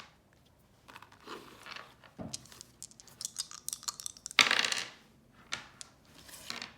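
Two dice tumbling and clattering across a hard surface, a scattered run of sharp clicks and rattles over several seconds, loudest near the middle, with no talking.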